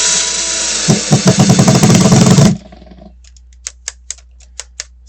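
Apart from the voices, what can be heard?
electric drill driving wood screws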